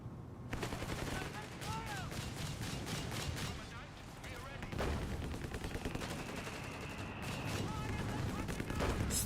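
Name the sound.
artillery barrage in Company of Heroes 3 video game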